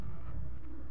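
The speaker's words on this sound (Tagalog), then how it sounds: "Pangatlong ibon si Chocolate." A pet pigeon gives a brief, low, soft coo, close by and alone, lasting only about a second.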